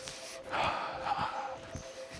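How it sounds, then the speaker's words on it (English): A single deep breath taken during a bouncing movement exercise: a long, airy inhale and exhale close to the microphone, with faint soft thumps of movement underneath. "Deep breath."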